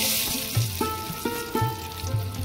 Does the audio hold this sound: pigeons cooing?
no